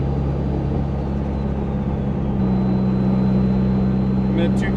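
Turbocharged car engine holding a steady 2,000 RPM, a low continuous drone with a rising whine settling into a sustained hum, sitting close and loud.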